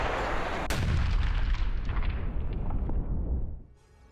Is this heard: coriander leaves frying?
no